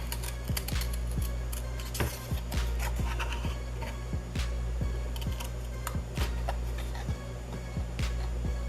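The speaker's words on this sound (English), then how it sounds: "it is super easy to cut through, and you can use regular scissors to do so." Regular scissors cutting through scrapbook paper for earrings, a close, quiet run of crisp snips and clicks in an uneven but steady rhythm, with no talking.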